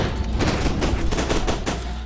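Short bursts of SMG fire in the shooter game FEAR 2, loud and close, with rapid shots in quick tapped volleys over about two seconds.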